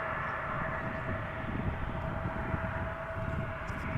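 An Aer Lingus airliner taxiing toward the runway at Schiphol Airport produces a steady, moderately distant jet engine rumble with a constant whining tone, unbroken for the short stretch.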